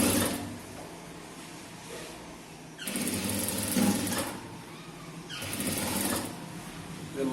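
A sewing machine edge stitching a folded blouse hem runs in three bursts of steady rapid whirring, close and fairly quiet, with short pauses between runs.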